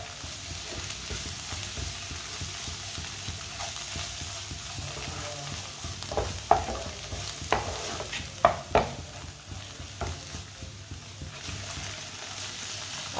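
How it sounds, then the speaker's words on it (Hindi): Spices cooked in a pan over a low flame for a spinach and egg dish: a steady soft sizzle, with occasional scraping knocks of a spoon stirring partway through. "मसालों को 1 मिनट के लिए पका लेंगे। चूल्हे की आंच को ना मैंने कम रखा है, कम आंच पे पकाना मसालों को"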